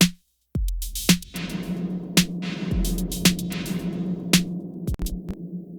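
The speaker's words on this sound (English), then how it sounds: "very long and suffocated ominous reverb" A drum loop in Ableton soaked in very long, dark, suffocated reverb: sparse punchy hits with a deep low thump, each trailing into a murky ominous tail under a steady low hum.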